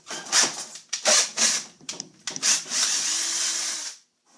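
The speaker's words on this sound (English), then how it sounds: "I'm going to go ahead and drill a hole in the bottom of this" A power drill whirs in several short bursts, then runs steadily for about a second and a half before stopping, close by.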